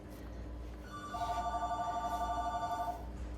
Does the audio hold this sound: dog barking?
no